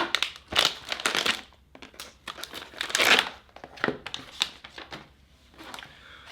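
Cardboard box and plastic packaging for a battery case crinkle and tear in uneven bursts, close to the microphone, with short quiet pauses between rustles.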